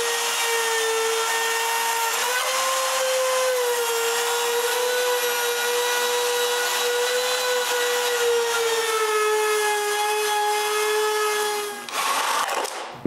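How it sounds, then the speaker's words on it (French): A power tool cuts away excess wood and formica around a table, a loud continuous high whine that holds steady for around eleven seconds, then briefly falters and roars before stopping abruptly. "je coupe l'excédent autour de la table"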